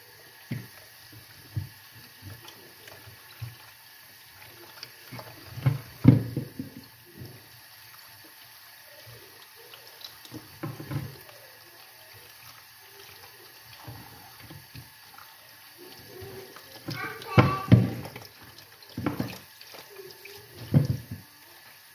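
Water poured over apples in a container for homemade apple cider vinegar, faint intermittent splashing and trickling that swells into a louder, sloshing pour near the end.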